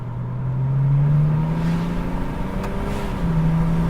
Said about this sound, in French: Et on entend bien les turbos qui sifflent, c'est génial.